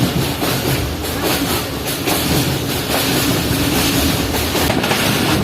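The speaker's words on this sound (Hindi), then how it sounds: "3:05 पर हमारी ट्रेन यानी कि 9 अप अल्लामा इकबाल एक्सप्रेस पहुंची है नारोवाल रेलवे स्टेशन पर" The 9 Up Allama Iqbal Express pulls into Narowal railway station on a rainy day, with loud continuous rumble, rhythmic clatter of wagons over rail joints and a steady hiss, close by.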